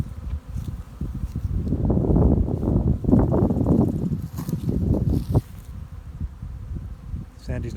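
Honeybees flying out of their hives make a steady, close buzzing hum that rises and falls in a thick swarm drone, with someone briefly speaking over it.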